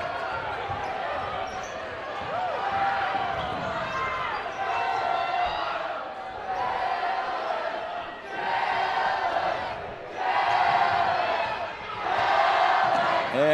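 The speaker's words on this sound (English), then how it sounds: "the driller crowd starting to come alive here" A high school boys basketball home crowd cheering in a gym, waves of loud crowd roar rising and falling every couple of seconds, with a commentator talking over it.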